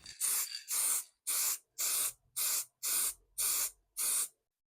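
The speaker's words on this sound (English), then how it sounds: "Now just clean it and spray." Eight short aerosol spray bursts in a steady rhythm, close and loud with brief silences between, as cleaner is sprayed into a Mustang muscle car's cigar lighter socket.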